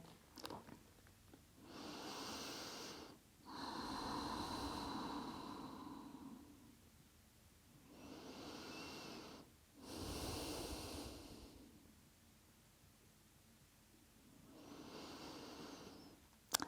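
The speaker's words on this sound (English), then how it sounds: "Yet again, nice deep breaths, another 10 breaths here." Slow, deep breaths in and out during a yoga floor pose, soft and close, with long airy inhales and exhales separated by quiet pauses and no talking.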